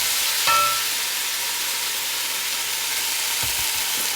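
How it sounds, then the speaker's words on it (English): Onions and peppers sizzle in hot oil in a pot, a steady, close frying hiss with a couple of soft stirring knocks. "We're gonna saute some onions and peppers to go with our mixture"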